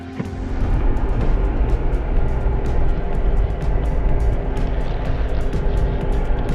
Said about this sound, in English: George is letting me drive this Cadillac on wheels, four-wheel drive Cadillac.